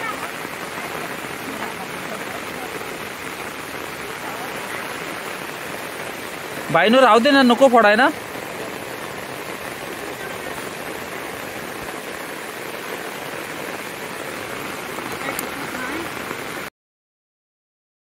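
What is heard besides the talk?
heavy monsoon rain in Konkan paddy field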